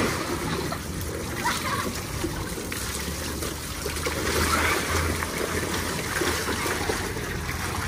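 Someone jumps into a swimming pool with a broad, sustained splashing and churning of water, heard close under a steady wash of water noise, with voices faintly mixed in.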